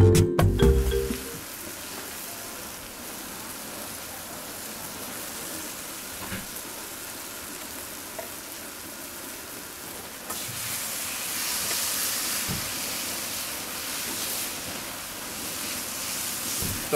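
Tomatoes and garlic sizzle in a paella pan, a steady, moderately quiet crackling hiss that swells slightly louder partway through.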